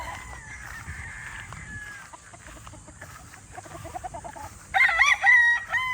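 Local banded roosters crow from a farm pen, several calls overlapping with clucking fowl, rising to a loud, close crow near the end.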